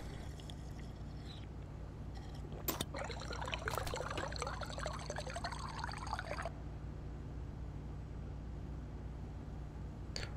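A character in the video game Stationeers drinks water from a bottle: a short sloshing gulp of liquid lasting a few seconds over a quiet steady machine hum, with no voices.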